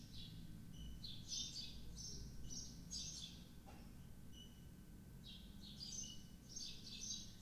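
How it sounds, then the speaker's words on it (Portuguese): Small birds sing outdoors in repeated bright chirping bursts, faint and somewhat distant over a quiet low background hum. "Os passarinhos estão fazendo festa aí, cantando alegremente."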